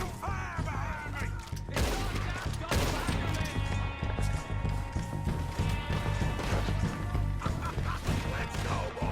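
Chaotic Red Dead Redemption 2 shootout with repeated gunshots, crashes and impacts over a steady bed of game sound, while characters shout over the firing.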